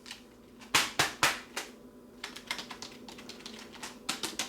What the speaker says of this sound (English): feel like it's a pretty good keyboard to type on